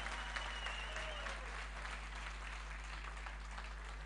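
Audience applause at a village evening event in Çamlıca, Turhal, Tokat: continuous, fairly faint clapping from a crowd, steady throughout with a low electrical hum underneath.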